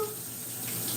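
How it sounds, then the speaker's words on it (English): Tap water running over a spoon being rinsed in a kitchen sink, a steady close hiss of flowing water with no voices. "I'm going to rinse this off and I'll be right back"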